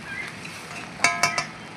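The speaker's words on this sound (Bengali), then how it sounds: "নাড়িয়ে চাড়িয়ে ঢেকে দেবো টমেটোটা গলার জন্য।" A spoon scrapes and knocks through chopped tomatoes and fried onion in a pan with salt, three quick close clinks over a soft background sizzle.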